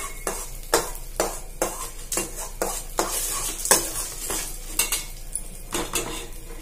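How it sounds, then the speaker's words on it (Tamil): Chana dal, toor dal and urad dal roasting in a pan, stirred with a metal spoon that scrapes and clinks in a steady, repeated rhythm, close and clear over a light dry sizzle. "ஸோ கடலைப்பருப்பு, துவரம்பருப்பு, உளுத்தம்பருப்பு 3 ஆட் பண்ணிட்டேன் நான். இப்போ வறுத்துருக்கேன்."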